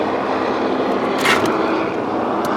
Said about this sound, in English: Buzzing helicopter, buzzing helicopter.